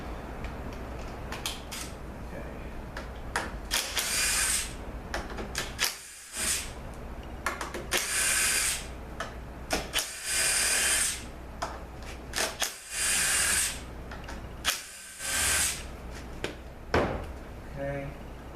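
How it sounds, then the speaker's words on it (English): A power tool fitted with a Torx Plus socket removes the valve body bolts from a 6L80 transmission: several loud whirring bursts separated by short pauses, with occasional metallic clinks between them. "now we use our Torx Plus socket. 6 of bolts hold the valve body in place."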